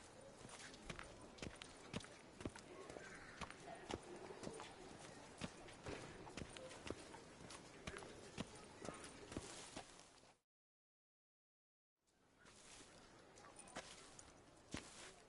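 Roach, Geralt's horse in Witcher 3, trots along with rhythmic clip-clop hoofbeats, steady and fairly quiet, broken by a brief stretch of silence before the hooves resume.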